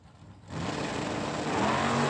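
Camaro launching off the line at a drag strip, sudden loud engine roar bursting in after a brief lull and holding full-throttle to the end.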